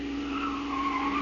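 Car tires screech in a sustained, loud squeal as the vehicle takes a corner on two wheels, a steady high whine held for the whole moment with no voices.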